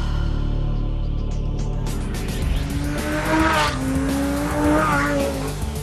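A Lamborghini Gallardo SE's V10 engine runs at full speed, loud and close, its pitch rising steadily as the car accelerates hard, with tire noise mixed in.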